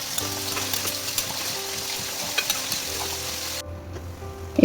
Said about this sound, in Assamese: এতিয়া 2 মিনিট ভাজি লৈছোঁ